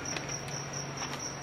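Crickets chirping: a close, steady shrill trill with regular pulsing beats, continuous and alone with no voices.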